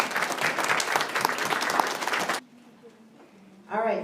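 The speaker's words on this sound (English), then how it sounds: "One final applause for the whole group." Crowd applause rings out steadily for a couple of seconds, then stops abruptly; a voice starts speaking shortly after.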